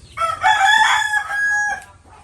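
A rooster crows once, loud and close, a single drawn-out call lasting about two seconds with a faint background hum.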